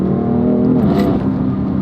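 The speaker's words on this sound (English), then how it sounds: "the M Performance exhaust fixes a lot of that" A BMW M4 engine with an M Performance exhaust revs up and settles under a deep, throaty exhaust drone, loud and close, with no talking.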